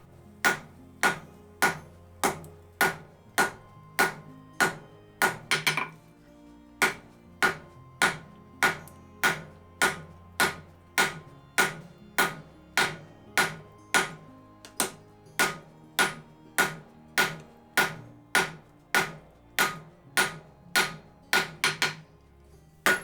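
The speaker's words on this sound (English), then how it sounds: "I start to use harder hammer blows" A hammer strikes hot 128-plus-layer herringbone pattern-welded steel being forged into a scouting knife blade: sharp, ringing metallic blows land in a steady, evenly spaced rhythm, about forty in a row, loud and close with no talking.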